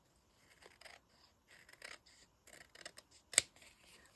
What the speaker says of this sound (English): That's what scissors are for.